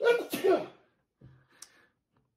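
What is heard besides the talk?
sneeze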